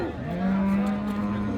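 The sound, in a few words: cow mooing at a cattle market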